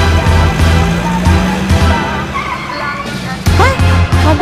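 A strange-looking van drives up at night, its engine rumbling with tire noise and brief squeals, fairly close and loud, amid cartoon sound effects.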